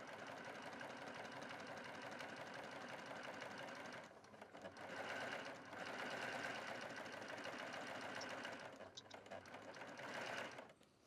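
A Baby Lock sewing machine stitches fabric for a handbag with a close, continuous mechanical whir, pausing briefly a couple of times before starting up again.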